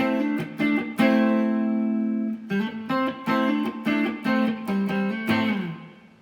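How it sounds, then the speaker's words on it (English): A Kai electric guitar plays with a clean tone and a little reverb and echo, single notes and chords ringing out, one long sustained, then a series of short separated strums that decay quickly, with no talking. "Again, all clean with the exception of a little reverb and echo."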